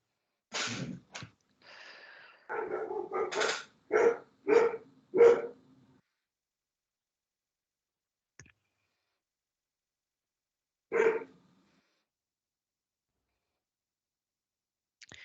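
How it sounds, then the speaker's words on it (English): A large dog barking in a run of sharp barks near the start, then a few isolated barks spaced out across long silences. "Do you have a large dog"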